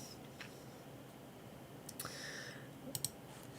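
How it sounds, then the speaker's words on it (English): A computer mouse clicks quietly in a few brief, separate clicks over a faint steady hum, with no talking. "You're going to hear a lot of clicking."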